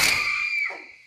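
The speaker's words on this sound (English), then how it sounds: "It was the knife that, a moment later, cut off her scream" A woman screams in a Psycho film trailer, a short, high shriek that sounds close and cuts off within about a second.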